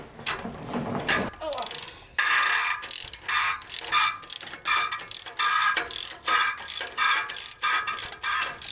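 A socket wrench on a very long extension ratchets against exhaust manifold bolts on an '87 Chevy S10, giving close, repeated bursts of clicking in a steady rhythm after a brief opening rustle.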